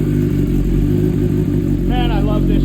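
Kawasaki Ninja H2 motorcycle engine idling after a cold start, a loud steady rumble heard up close, with a short burst of higher whirring near the end.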